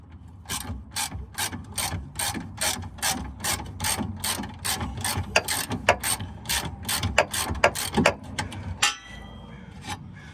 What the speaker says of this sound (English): So we'll take this end link bolt off.